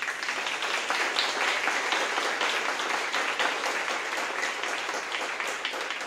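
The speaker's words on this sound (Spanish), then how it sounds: "Fuerte aplauso para ellos." A congregation applauds the music ministry during a Catholic Mass, a steady sustained wash of many hands clapping for several seconds without speech.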